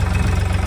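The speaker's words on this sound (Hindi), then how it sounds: "ये आ गए ट्रैक्टर चलाने, नया ट्रैक्टर लिया, नया ट्रैक्टर" A new tractor engine runs steadily, a loud, close, low chugging throb with a rapid even pulse and no voices.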